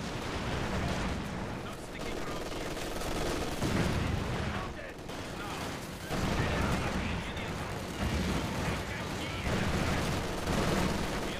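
Machine guns rattle in a video game battle, with bursts of gunfire and heavy reports surging and fading in waves while players talk over the noise.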